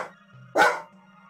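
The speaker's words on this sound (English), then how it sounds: "Grumbly dog." A dog in a room gives one sharp, close bark, with some low grumbling around it in a quiet space.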